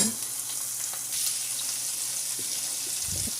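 Black chickpeas tossed into a pan of cooked onions for a palya keep up a steady, soft sizzle, with a few faint stirring scrapes near the end and no voices.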